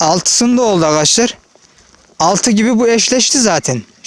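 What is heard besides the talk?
No everyday noises stand out.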